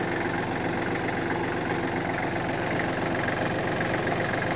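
A Kubota L1-215 tractor engine runs steadily at idle, with a constant low diesel rumble and rattle throughout, close and loud with no talk.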